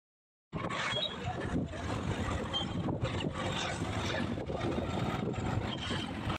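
Motorbike ridden on a road toward Uttam Nagar, a steady engine drone mixed with heavy wind buffeting on the microphone, starting abruptly and continuing loud and unbroken with no talk.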